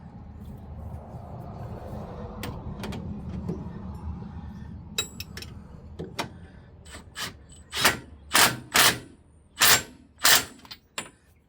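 Milwaukee cordless impact wrench, rated around 650 foot-pounds, driving a nut onto a bolt while fortifying a rear: a series of loud, close, sharp rattling bursts in quick succession after quieter handling clatter.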